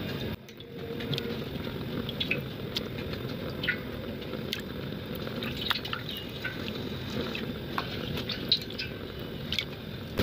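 Steady bubbling and dripping water as pork is parboiled in a pot, a continuous wet patter with small pops throughout, fairly close and moderately loud.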